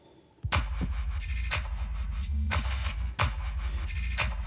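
A gritty, noisy drum loop with sharp broadband hits repeating in a steady pattern over a dense, continuous hiss and low rumble, loud and alone.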